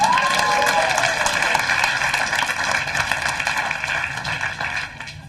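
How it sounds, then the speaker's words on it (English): Comedy club audience bursting into applause for a stand-up comedian, a dense, loud roar of clapping with some cheering, sustained for several seconds before tapering off at the end. "Give him a round of applause."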